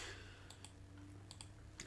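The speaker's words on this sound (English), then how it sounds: "I keep clicking on that one" Quiet, crisp computer mouse clicks land in small scattered pairs and singles, close up, against a faint steady hum with no talking.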